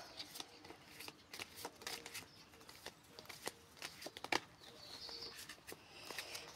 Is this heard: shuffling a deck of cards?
yes